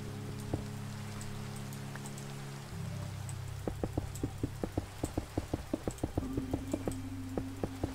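Steady rain hiss in Minecraft, a broad constant wash with a low droning tone, joined partway by a run of regular clicking steps.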